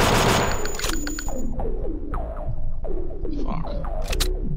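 Gunfire in the video game Thing Thing 3, rapid repeated shots with echoing tails, loud and close, followed by scattered single bursts and game sound effects.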